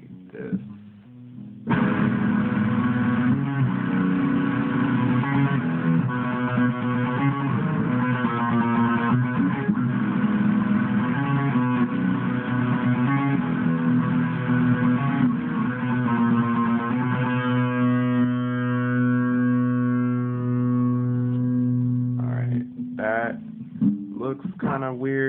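Electric guitar strumming power chords for a song, a dense sustained distorted wash of chords lasting about twenty seconds, then a few muted scrapes and short strums at the end.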